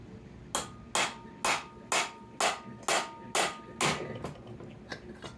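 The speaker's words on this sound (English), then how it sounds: "We are going to take a pry bar, pry gently," About eight sharp metallic strikes ring out at a steady, evenly spaced rhythm while a flywheel is worked off a Predator 212 small engine with a pry bar. The strikes are close and clear, with no talking.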